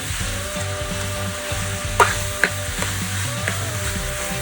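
Mangalore-style chicken sukka sizzles in a pan as salt and turmeric are stirred through, with steady frying hiss, repeated spoon scrapes and a few sharper clacks against the pan.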